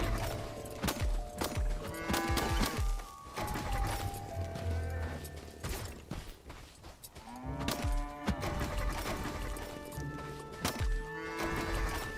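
Cattle mooing in the video game Far Far West, several drawn-out moos overlapping one another across a busy in-game soundscape with hoof clatter and no talk over it.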